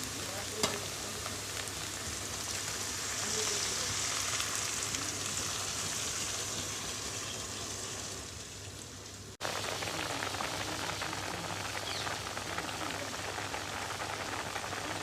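Bottle gourd halwa simmering with milk in a pan gives a steady, dense sizzling and bubbling hiss that continues unbroken, close and even in level, with one brief dip partway through.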